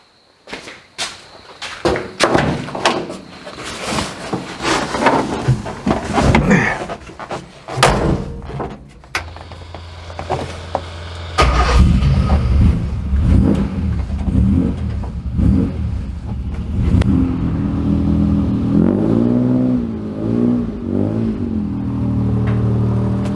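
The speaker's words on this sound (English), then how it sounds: "So I better move that truck." A truck door slams shut, followed by the engine starting and revving, then idling with a steady low rumble close by, alone with no talk.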